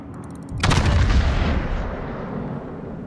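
A heavy naval gun salvo fires in the World of Warships video game, a sudden loud booming blast that rumbles and decays over the following seconds, alone without speech.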